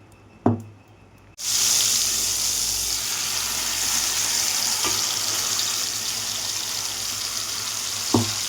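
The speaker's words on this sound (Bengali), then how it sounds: "এবার মাছটাকে তেলের মধ্যে ছেড়ে দিলাম" Prawns drop into hot mustard oil in a kadai and burst into a loud, steady sizzle that runs on without pause, with a sharp clack before the frying starts and another near the end.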